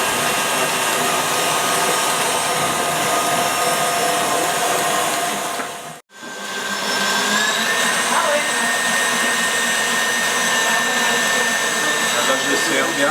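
Electric mixer whipping egg whites and sugar into a smooth meringue, a loud steady whir that cuts out briefly midway, then resumes with a rising pitch as the speed increases.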